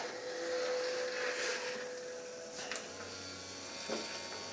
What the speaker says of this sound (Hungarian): Mint halljuk, a keringető szivattyú már üzemel.